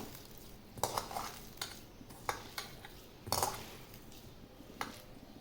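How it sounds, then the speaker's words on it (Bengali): Soft cooked rice being mixed by hand in a bowl as dog food, giving scattered clinks and scrapes of utensils against the dish at an irregular rhythm, close and fairly quiet with no talk. "তো এই যে ভালো করে ভাতটাকে মাখিয়ে নিচ্ছি।"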